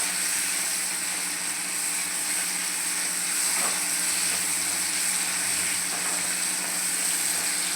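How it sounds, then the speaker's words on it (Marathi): Tomatoes cooking in a pan for an eggplant sabji, a steady, even sizzle and hiss of frying that holds at a moderate level throughout, with no talking. "थोडा आपण व्यवस्थित शिजवून घेऊ टमाटर"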